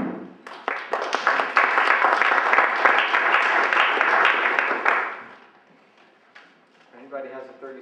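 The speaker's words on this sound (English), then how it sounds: "Thanks for that applause, by the way" At a neighborhood council election debate, the audience breaks into loud, steady clapping that builds quickly, holds for about five seconds and fades, followed by a moment of quiet and then a voice speaking.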